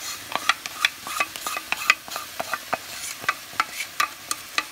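A spoon stirs hot date syrup together with sesame seeds and nuts in a pot: repeated scraping clinks and knocks in an uneven rhythm over a soft sizzle, close up with no voices.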